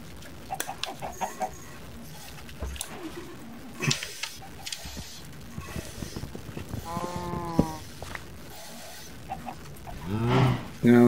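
Blocky cows in the Minecraft video game give short moos alongside other game sounds such as clucking and footsteps, scattered in brief bursts with a louder moo at the end.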